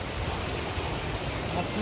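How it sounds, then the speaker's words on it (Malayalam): Steady broadband rush of water at Keralamkundu waterfall, a low-flow mountain fall in Kerala, heard as continuous noise without a break. "അപ്പോൾ ഇതാണ് കേരള കൊണ്ട് വെള്ളച്ചാട്ടം"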